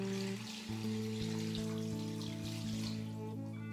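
Chicken broth for Vietnamese chicken pho pours faintly into a pot, a soft continuous trickle under steady background tones.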